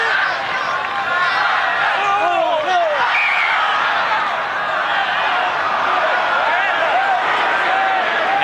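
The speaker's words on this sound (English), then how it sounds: "The crowd's starting to yell themselves hoarse." A packed stadium crowd at a 1987 Rugby World Cup semi-final between Australia and France yells in a sustained roar, with a commentator's voice running over the crowd noise.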